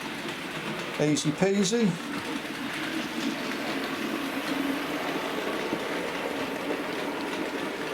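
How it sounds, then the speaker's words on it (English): A Bachmann 31-531 'Trimbush' model locomotive runs through a crossover of points, giving a steady low mechanical hum and rumble throughout, with a brief spoken remark near the start. "you'll see the loco going through points crossover."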